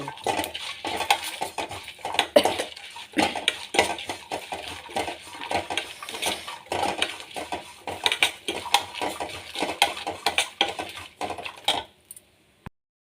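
Coriander seeds and other spices dry-roasting in a pan on low heat, a spoon scraping and clinking repeatedly against the metal in a busy, continuous rhythm before the sound abruptly stops.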